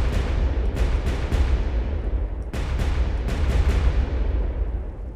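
Repeated gunfire from guns in the video game Beaver Disk Simulator, sharp bursts and booms firing in irregular clusters over a constant loud rumble of destruction, with no voices.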